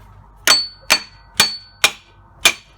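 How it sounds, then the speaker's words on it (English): A hard hammer taps on the water pump of a 2004 Jeep Rubicon six-cylinder, five sharp metallic clanks at an even pace, each ringing briefly, close and clear with no talking. "So I'm hitting it with this hard hammer."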